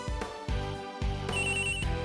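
An incessant telephone ring from a video game sound effect, a loud electronic bell repeating in short bursts roughly every half second, clear and alone with no talk.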